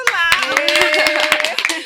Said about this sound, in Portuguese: Uma salva de palmas pro Lau.